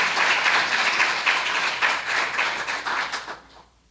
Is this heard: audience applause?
yes